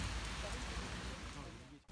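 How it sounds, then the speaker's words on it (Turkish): Heavy downpour at midday soaks streets in a Turkish town, a dense continuous rush of rain heard steadily up close, broad and hissing without letup until a brief cut at the end. "Öğle saatlerinde etkisini gösteren kuvvetli yağış"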